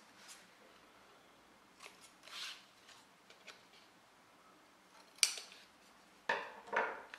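Scissors cutting the corners of a paper album: a few soft, short snips spaced apart over a faint, quiet background, with two closer cuts near the end.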